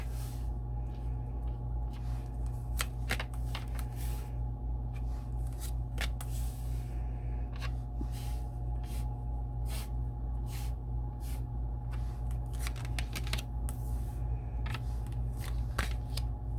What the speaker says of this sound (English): So I'm going to lay these beautiful cards out here.